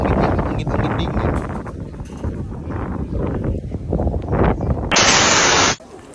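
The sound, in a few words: cold wind near the beach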